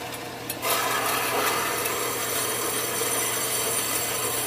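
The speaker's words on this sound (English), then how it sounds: "turn the saw on, hold it in place, and make the first half of my V." A 4x6 metal band saw cuts steel tubing, starting up after a brief quiet moment and then running as a steady, close grinding rasp with a constant motor hum underneath, no talking.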